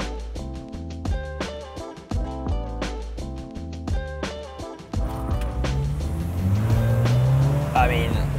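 A four-cylinder, 280 brake horsepower Mini Mulgari driven hard on a smooth road, its engine note rising through stepped gear changes, then a steadier roaring surge near the end.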